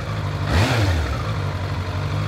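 A motorcycle engine on a machine that has done 47,000 miles idles steadily at close range with a low, even drone, briefly rising in a quick rev before settling back to idle.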